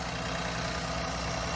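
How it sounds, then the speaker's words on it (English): A 2014 Jeep Compass with a turbo engine idles steadily, a smooth continuous low rumble held at an even level throughout, with no voices. "yeah, the engine's not shaking"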